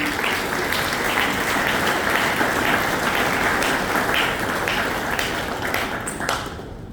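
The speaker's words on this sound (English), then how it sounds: "Please give them a round of applause." Loud, sustained applause fills a hall at a Bastille Day reception in Lagos as organizers are thanked, with crisp individual claps popping out before it begins to thin near the end.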